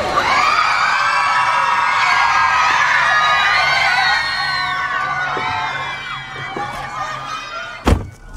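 A large crowd of fans screams and shrieks outside Taylor Swift's New York apartment, a dense sustained wall of high excited voices that eases slightly midway, with a sharp thump near the end.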